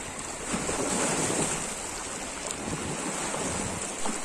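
Waves wash against the hard limestone shore of Tudakul, a karst reservoir lake near Bukhara, making a constant rushing surf with gusty wind noise throughout.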